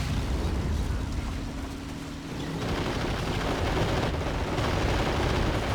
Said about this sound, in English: Just want to stay on this side here while my howitzer is firing at it.